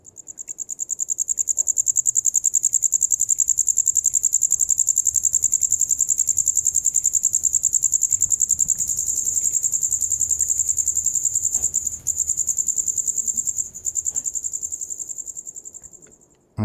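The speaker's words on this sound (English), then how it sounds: "there was a little cricket inside, so I took my recorder and was really, really close to" A cricket inside a house wall, recorded very close, chirps in a dense continuous high trill, loud and steady with only brief pauses, and there is no other sound.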